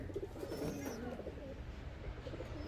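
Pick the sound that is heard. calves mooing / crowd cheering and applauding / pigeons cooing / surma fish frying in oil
pigeons cooing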